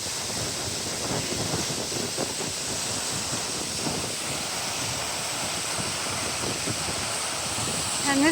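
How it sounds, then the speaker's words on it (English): Salmon Leap waterfall pours in a steady, broadband rushing roar that stays constant and close throughout, with wind buffeting the microphone. "I do believe that's Salmon Leap waterfall."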